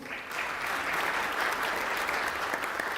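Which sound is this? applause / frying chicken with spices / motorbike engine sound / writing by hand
applause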